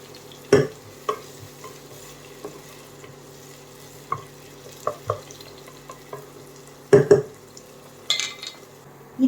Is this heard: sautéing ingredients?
yes